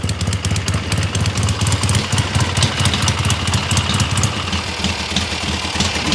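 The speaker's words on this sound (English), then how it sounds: "Bike's idling a little bit lower." A Yamaha XS650 motorcycle engine idles close by with a raw, lumpy, uneven throb that pulses steadily without any revving and no voices over it.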